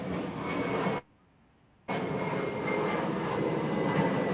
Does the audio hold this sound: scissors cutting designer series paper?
no